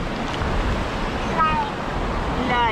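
Rushing mountain river water near Sochi, a steady broadband wash close by, with a voice and faint child sounds over it.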